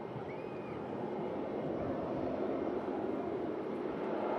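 A KLM airliner at Manchester Airport gives a steady, broad engine roar that holds at an even level throughout, with wind noise in the background and no one speaking.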